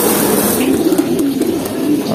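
Pigeons kept for racing training coo softly and continuously outdoors, with a low murmuring rhythm and faint ambient background.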